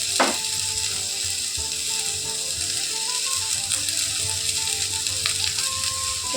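Curry masala with a pinch of salt sizzles and fries steadily in a pan, a continuous close crackle with occasional stirring scrapes and no talk.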